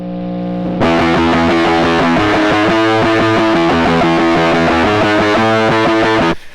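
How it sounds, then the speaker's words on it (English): A heavily distorted electric guitar, solo, shaped with stock Logic Pro X amp and effects plugins, plays fast steady power-chord strums that start after a brief lead-in and ring loud and constant until a sudden stop. "Let's start with the heavy distorted guitar here. This is what it's going to sound like soloed."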